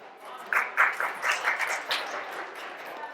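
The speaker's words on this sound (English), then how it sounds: "Let's give a round of applause for Robert Anthony." An audience gives scattered applause for a speaker taking the stage. The clapping comes as a brief, thin burst of claps that tapers off after a couple of seconds, fairly quiet.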